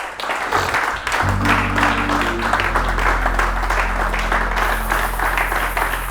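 Congregation applauding and cheering to acclaim the king during a church sermon, dense sustained clapping with crowd noise over a low droning organ-like chord that enters after the first second.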